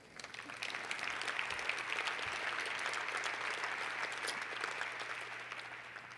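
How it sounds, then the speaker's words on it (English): Applause rises from the room at the Missouri football press conference marking coach Gary Pinkel's retirement, a crowd clapping at moderate distance that swells after a brief start and continues evenly, with faint talk beneath. "You can clap for that."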